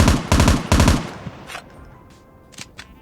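Gunfire in a video game on the Highrise map: three loud, rapid bursts of automatic fire in the first second, then fainter scattered shots and a couple of light clicks over quieter game ambience.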